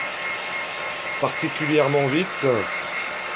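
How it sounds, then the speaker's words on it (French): A hair dryer blows a steady broadband whoosh while drying a leather car seat being dyed and varnished, running close and continuous with someone talking briefly over it. "comme vous pouvez voir avec le sèche-cheveux, là je suis au chaud."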